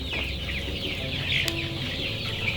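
Young chickens about eight weeks old clucking steadily on a poultry farm in Ghana, a dense overlapping flock chatter close by with no talk.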